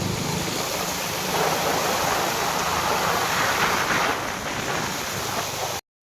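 A vehicle drives through rainwater during the first monsoon rain in Dhoraji, a loud, continuous rushing splash and wash of water close to the microphone, with wind buffeting, cutting off abruptly at the end.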